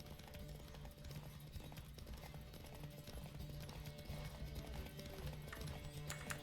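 Horse hooves gallop in The Witcher 3, a rapid rhythmic clip-clop carrying at steady pace amid game ambience, fairly close.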